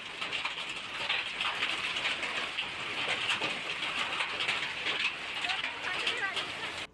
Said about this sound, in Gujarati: ત્યાં કરા સાથે વરસાદ પડ્યો